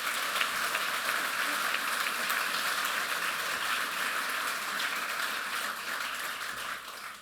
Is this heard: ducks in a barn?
no